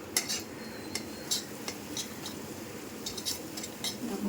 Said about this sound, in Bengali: এটাকে ভালো করে নাড়াচাড়া করতে হবে।